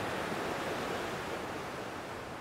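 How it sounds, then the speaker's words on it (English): A strongly running creek at a gold-prospecting highbanking site rushes in a steady, dense broadband wash of water, close and continuous for the whole stretch with no voices. "creek is running pretty strong."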